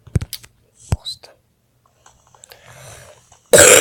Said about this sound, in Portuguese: Galera, tô tossindo porque eu tô muito resfriado.